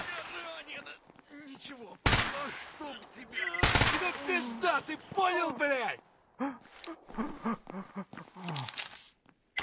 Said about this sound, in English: I do mean to shoot that guy.